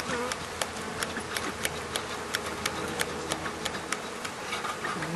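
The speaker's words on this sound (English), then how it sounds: "The hive is definitely making a lot more noise than they were just a few minutes ago." Honey bees buzz loudly inside an opened beehive during an August hive check, a dense steady drone with many sharp individual wingbeat passes flicking by close to the ear.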